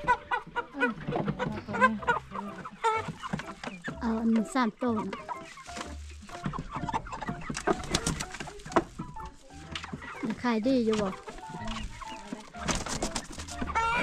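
Live chickens at a market in Laos, bought for a school meal, cluck and coo continuously and close by while people talk over them.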